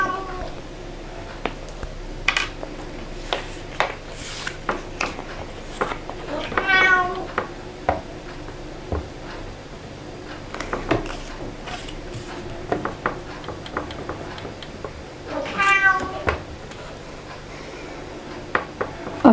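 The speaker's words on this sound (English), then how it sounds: "my cat is, she wants to go outside. That's why she is making such noises." A house cat meowing because it wants to go outside, with two drawn-out rising and falling meows among scattered clicks and tapping of indoor work.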